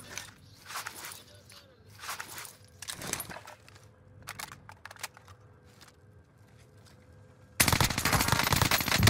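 Vargo 52 assault rifle fire in Call of Duty on Rebirth Island: several quick automatic bursts separated by pauses, then a loud sustained burst at the end, with game sounds and a player talking underneath.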